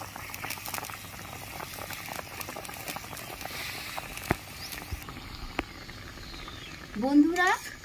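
Raw green mangoes simmer in a pot for chutney, a steady close bubbling and gentle patter of boiling liquid that continues throughout, with a brief, louder voice-like sound near the end.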